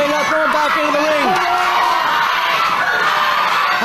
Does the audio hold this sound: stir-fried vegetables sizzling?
no